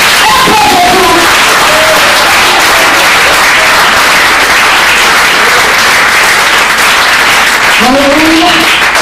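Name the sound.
congregation applauding at a church service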